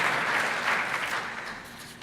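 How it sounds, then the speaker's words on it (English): An audience claps warmly for a guest invited onto the stage at a credit union executive awards event, a dense continuous patter that fades slightly toward the end, no talking. "Let's give her a round of applause."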